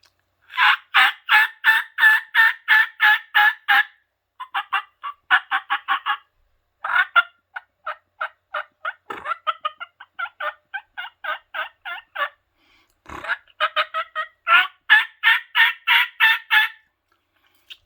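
A hand-operated turkey call yelps in rapid, raspy series of short notes imitating an older hen turkey, loud and close, pausing between runs with no talking.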